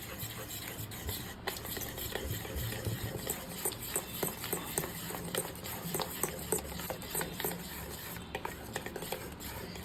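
Banana semolina cake batter with egg and a pinch of salt being stirred in a bowl, a steady run of soft scraping and light clinks of the utensil against the bowl, with no talk over it.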